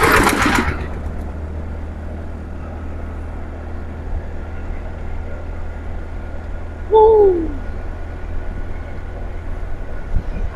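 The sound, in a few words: rice milling machine running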